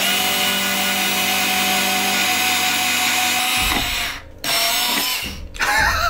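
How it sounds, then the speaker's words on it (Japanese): Power drill boring holes into a CD, a steady loud whirring grind that cuts out briefly twice near the end before restarting. "さあ、これにちょいちょい穴を開けていきます。"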